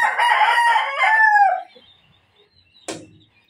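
A two-year-old Esculin Boston gamefowl rooster crows loudly and close by, a single full cock-a-doodle-doo that fades out, followed by quiet and a brief sharp noise.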